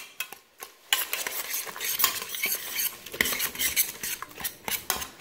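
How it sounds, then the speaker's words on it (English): Pressure-cooked pork is shredded with a spoon right in the cooking pot, bringing repeated metal scrapes and clinks against the pot over soft wet squelching, close and busy, with no talking. "I'm gonna shred this right in here so I don't make more dirty dishes."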